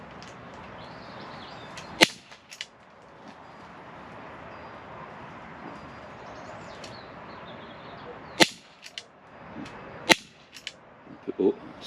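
A Colt 1911 rail 6mm airsoft pistol rated at 1 joule fires outdoors, with several sharp, loud snaps spaced seconds apart over a steady background hiss and a few fainter clicks.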